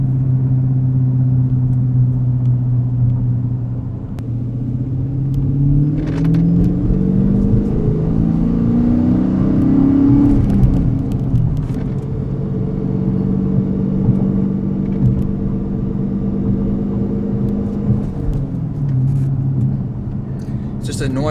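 A car engine runs hard at high RPM with a loud, steady drone that climbs in pitch, levels off and rises again, heard from inside the vehicle while a person talks over it.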